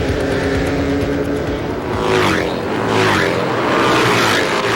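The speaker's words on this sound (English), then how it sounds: "That's the sound of American Iron doing battle on the road racing circuit" Harley-Davidson Twin racing motorcycles roar around a road racing circuit, loud engines revving and sweeping past in quick succession, with rising and falling whines as machines pass close by.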